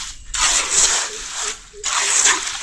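Water let out through an opening at a primitive fish trap, splashing and gushing steadily in two surges close by, with no talk over it.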